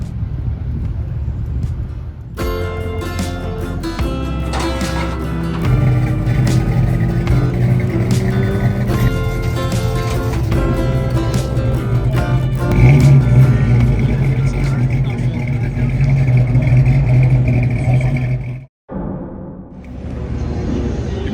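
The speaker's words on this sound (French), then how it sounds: "il y a énormément de bruit, il y a beaucoup de voitures qui tournent ce week-end" Loud, continuous roar of many cars, including old classics, circling the Paul Ricard circuit, with revving passes rising and falling over a steady rumble, then a brief dropout near the end.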